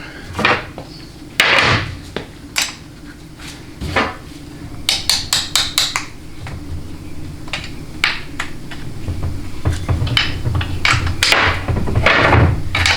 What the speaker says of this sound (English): I'm gonna grab the hammer.